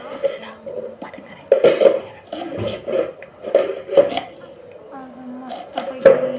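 A kitchen knife chops an onion on a board while pav bhaji is being prepared, giving a string of light, uneven taps and clicks mixed with soft clatter beneath ongoing conversation.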